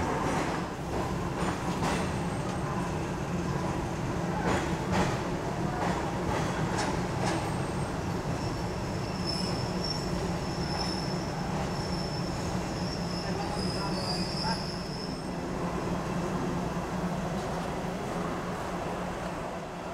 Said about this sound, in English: And we're pulling into platform 5 here at Hua Lamphong.